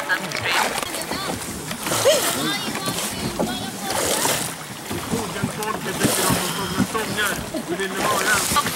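Water sloshes and splashes around a small peapod boat moving steadily along the Shennong Stream in China, with people talking over the lapping.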